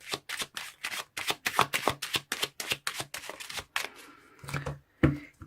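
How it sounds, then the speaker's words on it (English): Lenormand cards being shuffled and pulled at a tarot reading, a rapid series of crisp riffling card snaps followed by a few separate slaps as cards are drawn and laid down, with no talking. "So let me pull some Lenormand's cards to clarify the situation."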